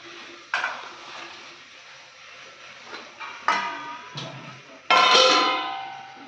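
Tomatoes being stirred in a metal cooking pan, with intermittent clanks and scrapes of a spoon against the pan, a few sharp hits and a louder ringing clatter near the end, close by, no talking.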